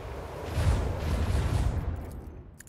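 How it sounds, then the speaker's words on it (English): Starship macro cannons in Warhammer 40K: Rogue Trader fire as a heavy rumbling volley of booms that swells quickly, holds loud for about a second and a half, then fades away. "Macro cannons, open fire!"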